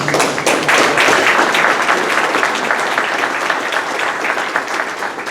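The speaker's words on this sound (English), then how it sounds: "give these two a round of applause, and give yourselves an applause" A room full of people applauding Paul Harris fellows at a club meeting, loud dense clapping held steadily throughout with no letup.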